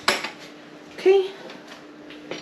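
A lid is set onto a sourdough baking pot, a sharp clatter at the start followed by a ringing metallic clink about a second later, close by in a quiet room.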